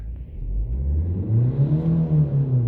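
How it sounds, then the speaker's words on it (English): Volvo V50 engine with a fuel pressure fault, revved once up from idle, giving a close, loud rising whir that holds its pitch, with no talking. "Give a rev."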